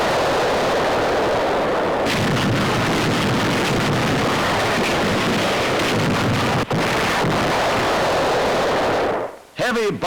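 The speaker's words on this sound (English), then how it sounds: "Heavy bombing and shelling finally ends the siege." Heavy artillery shelling and bombing during a World War II siege of an old fortress, a continuous loud rumbling barrage with scattered sharper blasts, mixed with wind noise.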